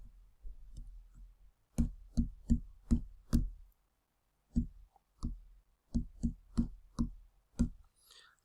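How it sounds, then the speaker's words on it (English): Calculator buttons pressed for a geometry surface area problem, a series of close, sharp plastic clicks in two quick runs separated by a short pause, with no talk. "we can put that in our calculator to give us our final answer"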